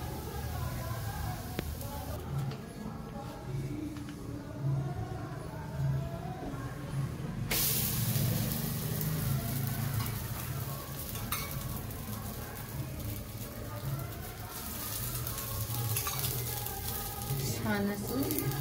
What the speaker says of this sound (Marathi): थालीपीठ जे आहे आपण खमंग असं भाजून घ्यायचे दोन्ही साईडने